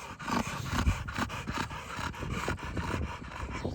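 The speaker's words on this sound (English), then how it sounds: "You gotta be an alpha when dealing with dogs." A dog pants in quick rhythmic breaths mixed with low growls and snuffles, close by and moderately loud, without any talk.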